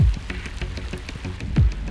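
Rain falling on a canoe camping trip during a severe thunderstorm, a steady broadband patter with a few heavier low thumps, close and continuous for the whole stretch.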